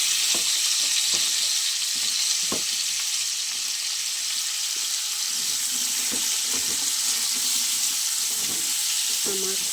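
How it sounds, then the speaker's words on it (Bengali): Radish and potato curry frying in a pan with radhuni spice tempering gives a steady, bright sizzle throughout, with occasional knocks and scrapes of a utensil stirring. "আমি এখানে রাঁধুনি ফোড়ন দিয়ে দিয়েছি, আর এখানে মূলো দিয়ে আলু দিয়ে নিরামিষ রান্না করব।"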